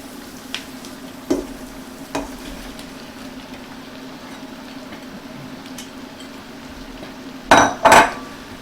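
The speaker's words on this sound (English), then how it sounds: "So now it's time we're going to put the cabbage in." Shredded cabbage tipped into a pan of softened apple for German red cabbage, giving a couple of brief clatters, then two louder bursts of rustling and sizzle near the end over a steady low kitchen hum.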